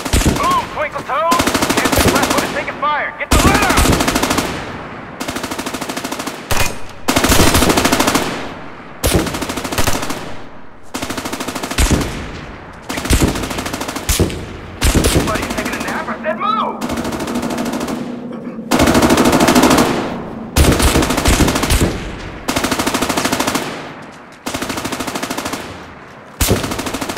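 Loud bursts of automatic rifle fire on a firing range in the video game America's Army, coming in repeated volleys of a few seconds each, with short silent pauses between them.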